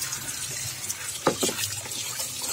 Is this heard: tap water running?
yes